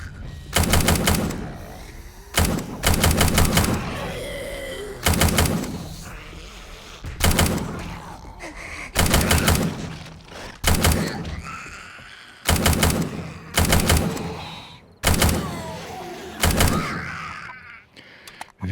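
Rapid automatic gunfire in the zombie survival video game Undead Legacy comes in about eight loud, close bursts, each roughly a second long, spaced evenly a couple of seconds apart.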